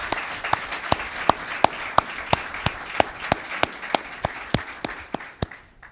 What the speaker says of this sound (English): Please give the committee a round of applause